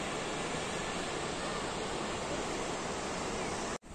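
Distant cascades in France, some 100 to 200 metres off, produce a constant even hiss of falling water that stays unchanged until an abrupt cut at the very end.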